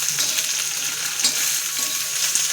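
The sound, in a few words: stirring thecha frying in oil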